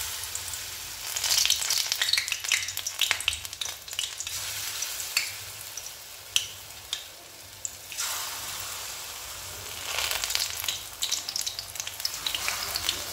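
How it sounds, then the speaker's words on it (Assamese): Pakoras made with besan batter and onion greens frying in hot oil, a steady crackling sizzle with bursts of louder bubbling as each piece goes in, close and continuous with no talk. "এতিয়া মই পকৰিকেইটা ভাজি লওঁ এটা এটাকৈ"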